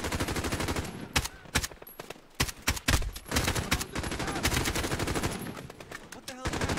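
Rapid bursts of gunfire crackle through a co-op heist shooter game, dense and loud, with automatic volleys and brief gaps between them.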